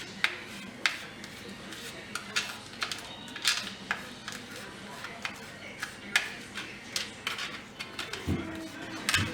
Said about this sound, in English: And I'm just going to slice it